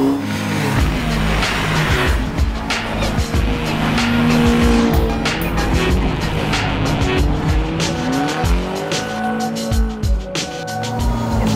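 Winter drift car (Zhiguli-rival) screams through a fast corner on a snowy track, engine revving hard with repeated tire squeal and skidding, loud and close throughout with no talk.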